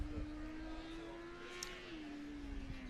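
Texas A&M Formula SAE combustion race car passing by during an endurance event, a faint, distant engine whine holding a steady pitch then dropping slightly as it goes past.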